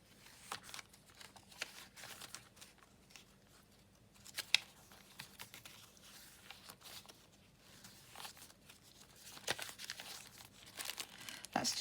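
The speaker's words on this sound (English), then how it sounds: "That's just like a little glassine food bag." A small glassine food bag crinkles and rustles as it is handled in a junk-journal crafting session, faint, irregular crackling bursts scattered throughout at close range.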